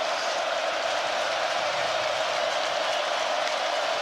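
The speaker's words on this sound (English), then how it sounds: "Here comes the crowd." A college football stadium crowd roars during a game, a dense, steady wash of cheering voices that holds at an even loudness throughout without any distinct individual sounds.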